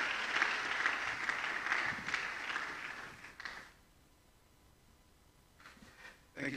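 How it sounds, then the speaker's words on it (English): Applause from a university e-learning week audience, a burst of clapping for about three seconds with a few trailing claps, then near quiet before a faint second spatter of hands. "A round of applause, ladies and gentlemen."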